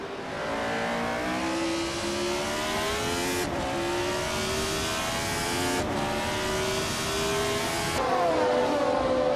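Race cars in a video game roar at high revs, their engine pitch climbing and then dropping sharply at each of three gear shifts, loud and continuous.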